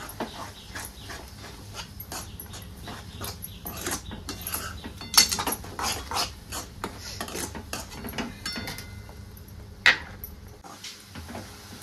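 Coconut mixture being stirred in a pan until thick, a series of irregular scraping and rubbing strokes with occasional sharper knocks, close and fairly quiet.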